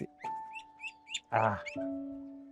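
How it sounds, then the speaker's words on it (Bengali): A call duck gives a few short, loud quacks close by, mixed with chirpy bird calls and a steady tonal hum in the background. "কল ডাক স্পেশাল হইলো ওরা এরকম সারাদিন প্যাক প্যাক প্যাক প্যাক করে ডাকতে থাকে"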